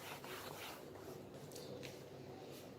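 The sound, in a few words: rubbing out writing on a board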